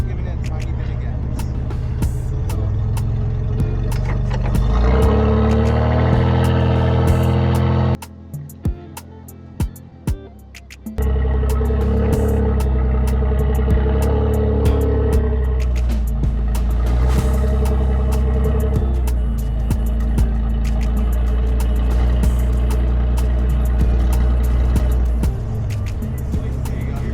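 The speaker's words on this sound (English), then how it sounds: "Give me a tiny bit of gas in reverse so I'm not pulling you dead weight." A Ford F-150 pickup truck engine idles and runs steadily while reversing out of a lake, a close, low rumble that briefly drops out midway, with people talking over it.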